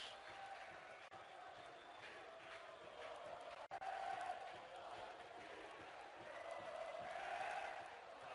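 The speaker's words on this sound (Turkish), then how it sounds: "Saldır Beşiktaş'ın tezahüratları" Beşiktaş fans chant in the stadium during a preseason friendly against Kartalspor, a distant steady roar of crowd voices, with a commentator talking over it throughout.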